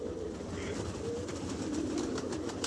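Large pigeons coo softly in a short, continuous stretch over a busy, noisy outdoor background, with faint low murmurs throughout.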